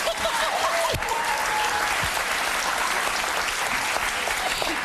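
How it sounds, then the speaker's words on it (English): Studio audience on a live morning talk show applauding loudly and steadily throughout, a dense wash of clapping with a voice briefly audible near the start. "You missed it. You were clapping."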